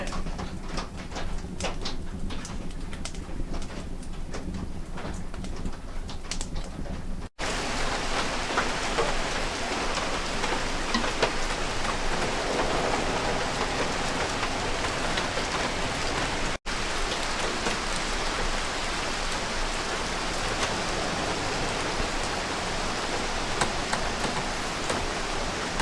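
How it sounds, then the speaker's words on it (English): Night rain pours outside a cabin in Oregon, a constant close wash of hissing drops that fills the whole stretch, broken only by two brief cuts, with no talking. "And it's raining. Getting good old rain out here in Oregon."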